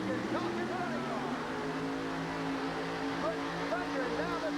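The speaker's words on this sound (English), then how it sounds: "Touches the injectors, you notice the motor comes to life right up on a rear tire." A big blown Ford drag-racing engine with shotgun injectors revs and runs at a 1988 USHRA event in Albany, a steady distant roar under a commentator's voice.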